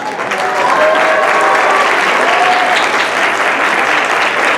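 Ceremony audience at a 50th anniversary event gives a strong, sustained round of applause, a dense and even wash of many hands clapping for several seconds without a break.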